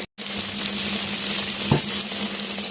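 Vegetables frying in a pan for a Bengali vegetarian dish, a loud close sizzle running almost continuously after a brief silent start, with a low hum underneath and one short stirring scrape, no talk.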